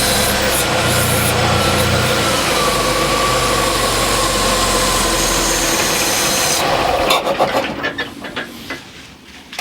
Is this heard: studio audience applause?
no